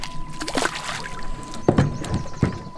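A bass fishing boat is launched, water sloshing and splashing in bursts as it slides in, with a few irregular thuds and splashes close by outdoors.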